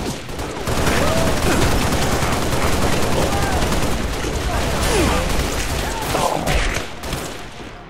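Rapid gunfire from the video game Halo: Reach rattles nonstop in dense automatic bursts, loud and close, layered with battle noise throughout.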